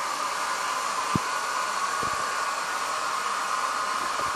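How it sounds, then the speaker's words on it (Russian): A hair dryer blows steadily aimed at a child's head indoors, a continuous close airy roar with a few faint thumps and no talking. "Шмук, на голову фен."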